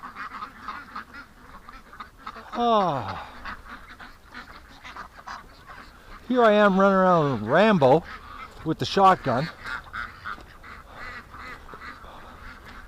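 Two wild ducks quack and honk in loud, repeated bursts near the listener, with someone talking between the calls.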